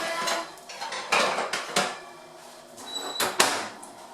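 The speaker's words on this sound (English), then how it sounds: "so I'm going to take them out of the oven." Cupcakes coming out of a home oven, with clattering metal baking tray and pan knocks, cutlery-like clinks and a couple of sharp door or rack bangs in quick succession, close and fairly loud.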